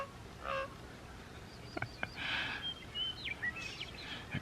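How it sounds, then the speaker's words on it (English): A crow perched on a park pavilion gives odd, broken, honking caws, a few scattered calls at a distance that sound faint over quiet outdoor background noise. "I think his caw is broken."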